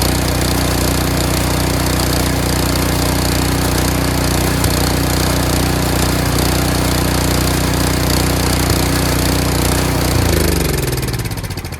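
A Troy-Bilt Storm 3090 30-inch two-stage snowblower engine runs loud and close with a steady, rough, pulsing drone, then winds down in the last second or so.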